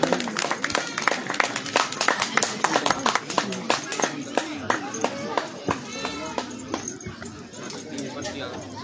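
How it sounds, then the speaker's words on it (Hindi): Crowd clapping at a village Ramlila lucky-draw event, a run of sharp claps repeating through the clip with chatter and children's voices underneath, fairly close and steady before thinning toward the end. "तालियों में कंजूसी ना रखें"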